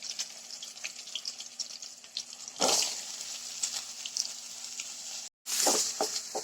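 Onions being stirred in a hot pan for Kerala-style tomato chutney: a steady sizzle with scraping stir strokes and a louder burst of frying near the middle, a brief gap, then more sizzling toward the end.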